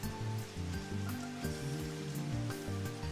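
Steady rain falls in the video game Robotics;Notes Elite, a constant wash of drops on surfaces heard under loud music with no talking.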